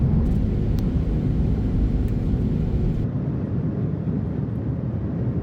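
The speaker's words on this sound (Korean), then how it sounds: "이제 이륙합니다" A T'way Air airliner bound for Rome takes off, its engines a steady, dense cabin roar that holds evenly throughout without pauses.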